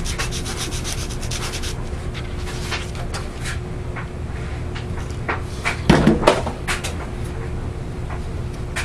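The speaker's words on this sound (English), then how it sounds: "They recommend sanding." Sandpaper rubbing on a small model rocket part, likely the launch lug before gluing, a steady close scratchy friction with a brief louder burst of handling and knocks partway through.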